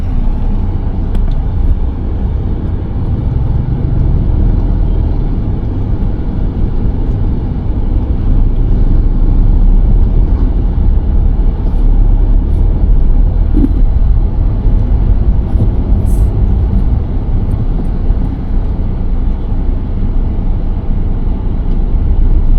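Heavy road traffic heard from inside a car on a long road trip from Theni to Chennai: a steady, loud low rumble of engine and road noise that runs without letup.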